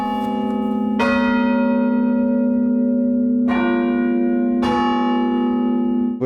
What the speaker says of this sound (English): 8 bells, so they could be going off at any time with people ringing them downstairs